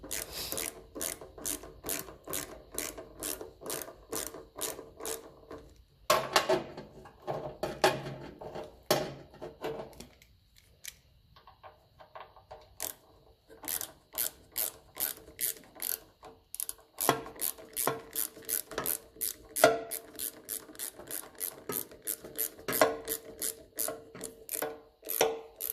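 A ratchet wrench clicks in quick repeated bursts as a bolt is tightened on a 1954 Ferguson 20 TEF diesel tractor, close and loud, with short pauses between strokes and no talking.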